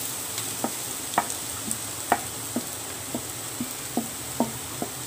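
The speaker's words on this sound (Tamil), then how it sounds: "தேங்காய் சேர்த்துட்டு நல்லா எல்லாத்தையும் வதக்கிடலாம்." Carrots and grated coconut sautéed in a pan, a spatula stirring with steady, evenly spaced scraping taps over a soft sizzle, close and alone with no talking.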